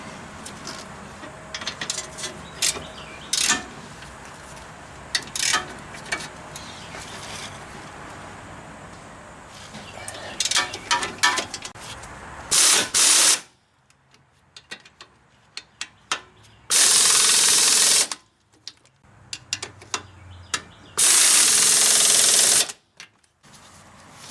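Wheel bearing bolts on a 2002 Mitsubishi Lancer being tightened with a ratchet, heard as quick clicking bursts over a workshop background, then sharp loud bursts of tool noise between silent pauses.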